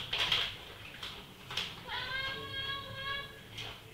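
A pet cat meows repeatedly for treats in a kitchen, several insistent, drawn-out cries close by, with faint clatter and brief human sounds around them.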